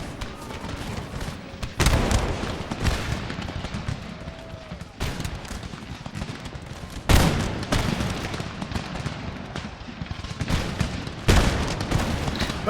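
Volleys of massed musket fire from line infantry in Empire: Total War, playing as Prussia, crack out in several broad bursts amid a steady din of distant battlefield shooting.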